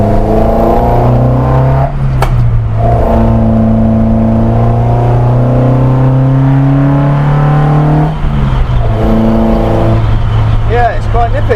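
Loud, close engine drone of a Morris Minor driving, revving up and down through gear changes, with people talking over it.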